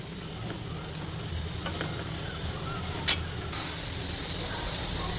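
Bitter gourd pieces shallow frying in oil, a soft, steady sizzle with faint stirring scrapes and one sharp clink of a utensil midway.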